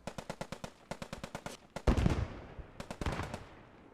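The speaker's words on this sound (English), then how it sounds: "I can hear artillery. Artillery is coming in now." Rapid bursts of gunfire with heavier booming impacts ring out during a tournament match in a World War II tank video game, loud and close, with no talking.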